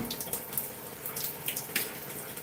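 Water runs from a tap during a hair wash, a soft continuous splashing stream with irregular drips and spatters, fairly faint and without voices.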